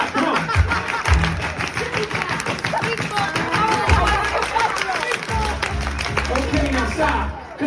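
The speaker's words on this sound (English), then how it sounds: "Yeah, y'all can clap, come on." A crowd claps hands in an even, continuous rhythm, with scattered whoops and people talking over the clapping before it tapers off at the end.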